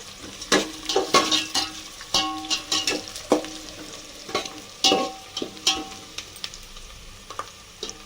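Chopped onions fry in a pan, a low constant sizzle punctuated by a steady series of scraping, clacking strokes from a spatula stirring them, close and clear with no voices.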